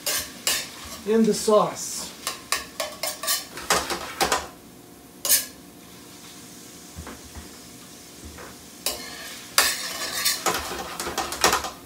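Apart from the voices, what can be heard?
scallops and shellfish sautéing in a pan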